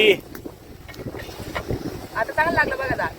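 Wind rushes and buffets against the microphone outdoors, a steady breathy roar with people talking and laughing over it.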